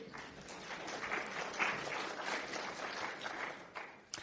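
Town hall audience applauds after a closing statement: a soft, steady round of many hands clapping, fairly distant and even throughout.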